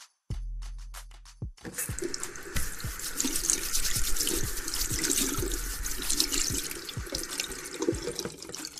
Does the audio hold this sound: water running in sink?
yes